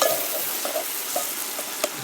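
Sev being stirred into a cooking dish in a home kitchen, a soft sizzle with a few scraping spoon strokes against the pan, steady and close.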